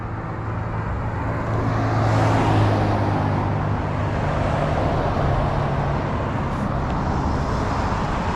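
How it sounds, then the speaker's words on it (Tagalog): Busy city street traffic in a Canadian city, a dense steady wash of passing cars and engines swelling briefly as a vehicle goes by close, continuing unbroken with no voices. "daming sasakyan"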